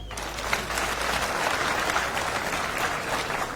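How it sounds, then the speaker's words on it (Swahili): Students at Kenyatta University applaud in a loud, dense burst of clapping from a large crowd, sustained evenly from start to finish. "Mpigie makofi."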